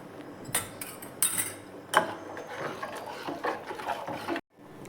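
A spoon stirs chili powder into tomato rasam in a cooking pot, making sharp metallic clinks and scraping rattles close to the listener. The stirring is irregular and stops abruptly near the end, with no talking.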